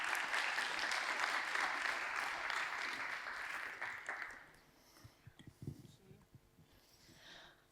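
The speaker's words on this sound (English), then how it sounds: "I'd like for you to give Kristen a round of applause as she comes." Church congregation applauding, dense sustained clapping for about four seconds that fades out, followed by scattered quieter sounds and faint voices.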